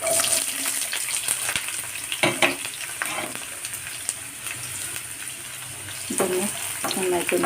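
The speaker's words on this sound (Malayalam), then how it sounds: "വഴറ്റാം നന്നായിട്ട്" Sliced onions sautéing in a pan for a chutney to go with dosa, a continuous close sizzle with scraping stir strokes and clinks throughout.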